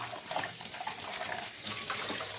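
Water runs and splashes steadily from a tap, with small clinks and sloshing as something is rinsed under the stream close by.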